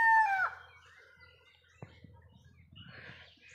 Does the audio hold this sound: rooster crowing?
yes